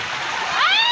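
Water from a mountain stream at Malibong, Pangasinan rushes loudly and close, a steady broadband wash with a brief splashy swell near the end, no speech over it.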